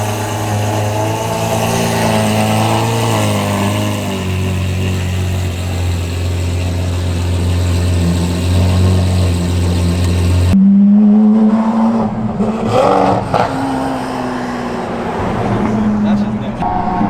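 A Lamborghini Aventador SVJ engine drones loudly and steadily, then shifts to a rougher rev with a sharp change in tone partway through.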